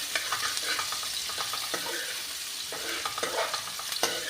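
Chopped garlic and onion sizzle steadily in a hot pan for an upma, with a close, crackling fry and repeated scraping stir strokes, no voices.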